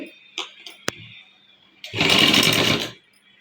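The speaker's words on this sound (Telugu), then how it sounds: "ఇప్పుడు ఈ పట్టీని సన్నగా ఫోల్డ్ చేసేసుకొని ఈ పైపింగ్ కింద వచ్చేట్లు కుట్టుకుందామండి" A sewing machine stitches a thin folded strip beneath piping on a blouse sleeve, a loud steady whir of about a second following a few light clicks and taps.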